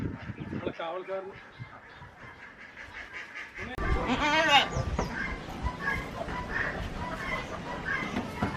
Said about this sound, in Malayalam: കബീർക്ക് എത്ര ആടുകളുണ്ട് നിങ്ങൾക്ക്?